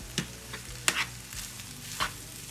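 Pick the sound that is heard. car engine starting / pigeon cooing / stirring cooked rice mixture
stirring cooked rice mixture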